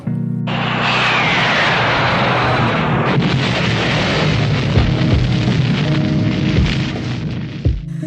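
Military airplanes roar overhead while bombing La Moneda palace, with loud, heavy blasts booming through the dense engine noise. The sound is close and continuous, with no voices.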